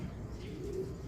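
Racing pigeon, a young-bird superset race winner, cooing in a low steady murmur that runs without a break through the brief moment, fairly quiet with a faint hum of other birds around it.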